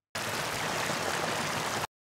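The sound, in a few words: waterfall sound effect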